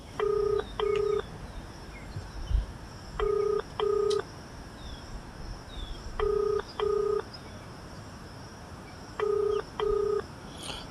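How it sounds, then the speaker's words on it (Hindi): DTMF keypad tones of a phone call being dialed to an SDM's office, in four evenly spaced bursts of paired beeps over a faint hiss. "तो अभी हम एसडीएम जखनिया को फोन लगा रहे हैं।"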